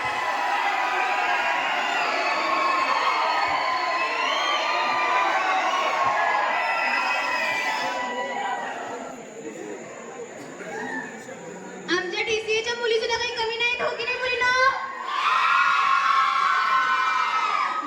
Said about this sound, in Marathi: मुलींपेक्षा डीसीएच्या मुलांचा जल्लोष जास्त आहे आज.